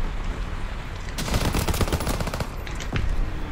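Automatic gunfire in the Call of Duty: WWII zombie mode video game, a loud rattling burst of rapid shots after a quieter start, a brief pause, then another round of shots.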